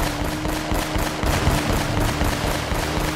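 Sustained automatic gunfire in the video game Uncharted: Drake's Fortune, a dense, loud, continuous rattle of rapid shots with a steady pulsing rhythm throughout.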